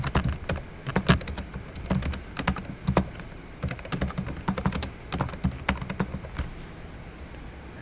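Fingers type on a computer keyboard nearby, bursts of quick crisp key clicks with short pauses between runs, steady and alone with no voices.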